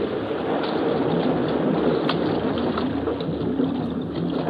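A steady, dense engine drone rumbles continuously with a faint watery wash, like a motorboat running close by on open water, no voices.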